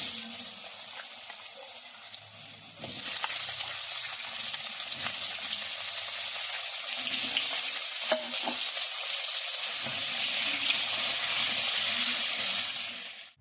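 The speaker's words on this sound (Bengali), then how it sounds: "এই দেখুন আলুগুলোকে ভেজে নিয়েছি" Potatoes fry in hot oil with a dried red chilli, whole cumin seeds and a bay leaf, giving a steady close sizzle that swells louder after a few seconds and holds, with no talking.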